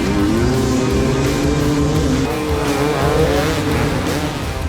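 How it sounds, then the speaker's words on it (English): Dirt bikes rev at the start line of the Grinding Stone hard enduro race in Page, Arizona, a loud, continuous engine roar with wavering pitch that fills the whole moment, with no pause or talk. "All the riders are revving up their bikes and getting all psyched up."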